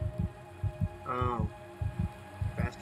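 A fast heartbeat sound effect from a video game thumps in steady low double beats over a constant hum, with a brief tonal game sound cutting in midway.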